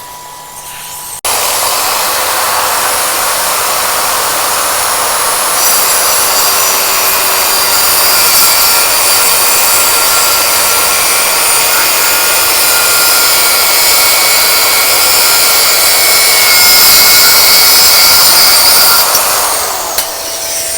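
A plunge circular saw whines loudly and continuously while cutting MDF alongside the steady roar of a vacuum, sustained for about twenty seconds without speech.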